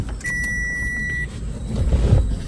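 A Mitsubishi Xpander starts up after an oil change: a steady electronic chime tone is followed by the engine cranking and catching into a swelling, close rumble.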